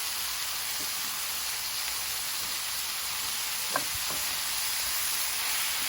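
Food sauteing in butter in a pan, a constant close hissing sizzle that holds steady throughout, with a faint clink partway through and no voices.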